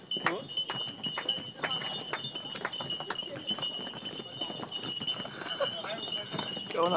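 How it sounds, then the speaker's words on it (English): Donkey hooves clopping at a steady walking pace up a stone path on Santorini, continuous and close, with scattered bleats and people chatting over the top. "Going up Santorini on the back of a donkey, this is one way of doing it"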